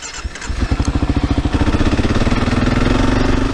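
A 2022 Kawasaki KLR 650 motorcycle engine pulses rapidly up close, its thumping firing beats quickening and rising into a loud, steady revving drone as the bike rides off-road.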